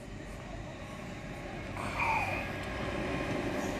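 A Sydney Trains C set passenger train under testing passes through platform 4 at St Marys station, its steady rumble swelling and adding a brief whine midway, with no talk.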